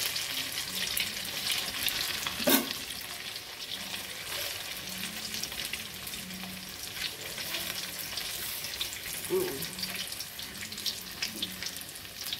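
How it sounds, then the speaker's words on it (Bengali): Pieces of banana flower dhoka fry in hot oil in a wok, giving a steady, close, full sizzle throughout with a couple of faint clinks and no talking. "এবার ভেজে তুলে নেবো"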